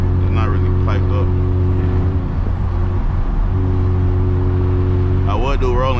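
Straight-piped BMW 335i with big turbos drones loudly and steadily while driving, its engine tone holding through the stretch, with someone talking over it near the start and end.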